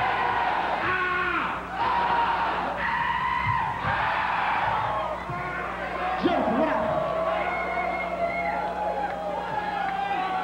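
Concert crowd at a show in the Commodore Ballroom, Vancouver, cheering, yelling and whooping continuously and loudly, with scattered shouts and a voice calling out over the din.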